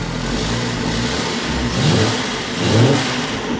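A 1995 Jeep Cherokee Country engine idles steadily with a low rumble, revving up briefly twice before settling back, with an exhaust leak and an intake leak.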